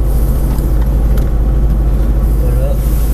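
A Porsche Cayman S engine drones loud and low as the car pulls away on the Haute-Saintonge race circuit, a steady rumble with a voice over it.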